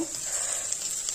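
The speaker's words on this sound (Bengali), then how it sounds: "এবার আমি বরবটি আলুটা ভেজে নেব" Potatoes and yardlong beans fry in a pan of hot oil, giving a close, steady hiss of sizzling with faint crackles throughout the short moment.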